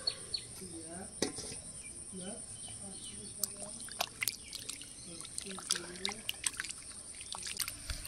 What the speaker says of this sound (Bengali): এই মাছগুলো এখনও আমি 2-3 বার জল দিয়ে ধুয়ে নেব